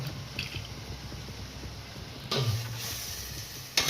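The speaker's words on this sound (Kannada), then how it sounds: "ಈಗ ಇದಕ್ಕೆ ತುಪ್ಪ ಸೇರಿಸ್ಕೊಳ್ಳೋಣ." Ghee poured into a pan for beetroot halwa, a soft wet squishing and dripping of liquid fat, faint and close, with a brief louder splash partway through.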